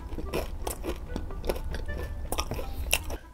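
Homemade Ferrero Rocher-style chocolate is bitten and chewed right at the mouth, with steady, wet crunching mastication for a few seconds and no talking.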